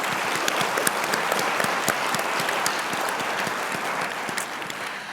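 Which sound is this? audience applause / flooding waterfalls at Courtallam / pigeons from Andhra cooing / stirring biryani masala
audience applause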